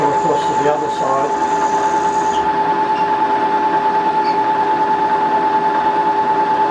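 Machine cutting an impeller nut socket, a loud, steady mechanical whine with a sustained tone and continuous drone throughout, and a brief voice early on under the noise.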